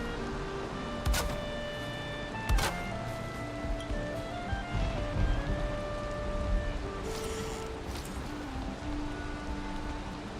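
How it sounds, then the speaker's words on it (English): Rain falls in the video game Valheim with a soft, steady hiss under game music and occasional sharp effect hits. "Oh, and there's the rain."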